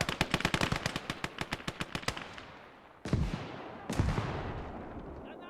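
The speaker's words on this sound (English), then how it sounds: "A lot of nades going off, which is good." Grenades explode in a Gates of Hell: Ostfront battle: rapid machine-gun bursts rattle first, then two heavy, booming blasts land a second apart, each trailing into a rumbling decay.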